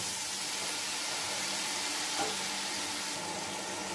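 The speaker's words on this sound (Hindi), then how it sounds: "ये सारे मसाले हमने डाल दिए हैं और मसाले को अच्छी तरह भूनना है।" Whole biryani masala and whole garam masala roasting in hot oil for chicken pulao, a steady close sizzle and crackle with a light stir clink near the middle, no voices.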